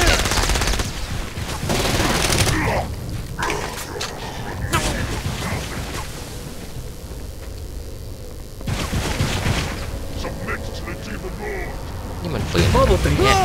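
Rapid bursts of SMG fire in Saints Row: Gat Out of Hell, loud near stretches of chattering shots that start and stop several times, mixed with game effects and someone talking over part of it.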